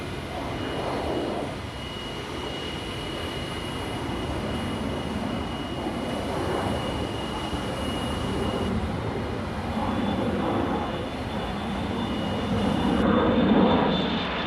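Jet engines of the North American XB-70 Valkyrie bomber roar in a broad, steady wash as it takes off, holding loud and even before swelling near the end.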